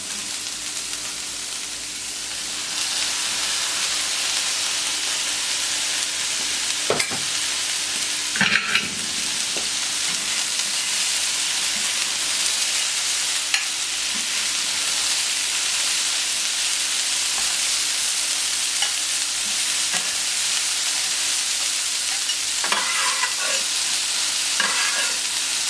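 Red beans stirred into a sizzling Cajun-spiced giant prawn sauce, a steady loud frying hiss with occasional scraping clicks of the utensil, no voices.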